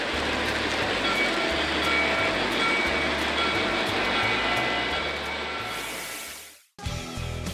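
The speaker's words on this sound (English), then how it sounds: "Trains." Model train passing at a hobby train shop, a loud steady rumble and rattle of wheels that fades before a sudden cutoff.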